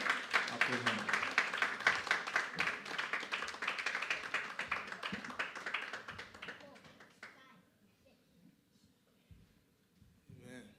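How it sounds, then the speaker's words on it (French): Church congregation at a Free Methodist service clapping together, a lively, rhythmic burst of many hands that thins out over several seconds and fades, followed by quieter room sound with faint voices. "Applaudis pour nous, s'il vous plaît."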